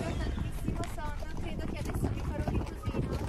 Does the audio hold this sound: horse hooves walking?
yes